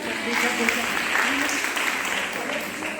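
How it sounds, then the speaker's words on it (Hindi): An audience claps after a medical talk on preventable cancers, a moderately loud, steady patter of applause with voices mixed in beneath it. "तुम लोग जितनी तालियां बजा रहे हो"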